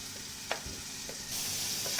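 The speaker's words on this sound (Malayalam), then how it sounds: "നന്നായി ഒന്ന് ഇളക്കി കൊടുത്ത്" Crushed ginger, garlic and green chili with fried onions sizzle quietly in ghee, with a few soft scrapes and clinks of a spoon stirring the pan. A brighter hiss swells toward the end.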